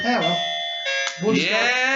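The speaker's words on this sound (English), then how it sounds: "That's the doorbell. That's so annoying." A two-tone electronic doorbell chime rings through during a gaming podcast, loud and clear, while people speak over it.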